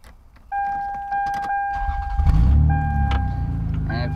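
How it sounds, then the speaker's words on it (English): Warning chimes sound, then a car engine cranks and catches, settling into a steady idle rumble close by. "So I'll need to start the car."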